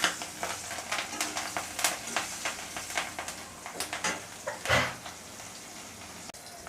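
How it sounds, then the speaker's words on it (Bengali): Green chillies fry in hot oil in a pan, a close crackling sizzle broken by rhythmic scrapes and taps of a spatula stirring, with one louder splattering burst. "কাঁচা লঙ্কাও আমাকে ভালোভাবে ভেজে নিতে হবে।"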